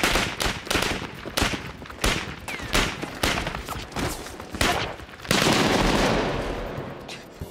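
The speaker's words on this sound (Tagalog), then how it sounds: "bigla silang pinaputukan ng mga sundalong Aleman" Rapid bursts of film gunfire from German soldiers crack repeatedly in quick volleys, ending in a louder, sustained barrage with a rumbling blast.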